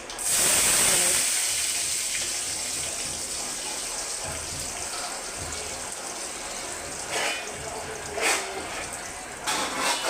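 Mustard and cumin seeds sizzle and crackle in hot oil, a steady frying hiss with a few sharper pops near the end.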